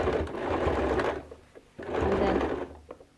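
A sewing machine back stitching around a patched pocket runs in two close, loud bursts of fast mechanical whirring, separated by a short pause with light clicks.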